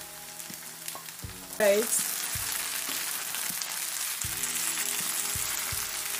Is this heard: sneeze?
no